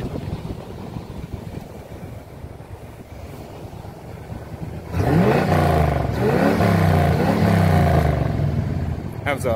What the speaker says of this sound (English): Has a cherry bomb exhaust on it.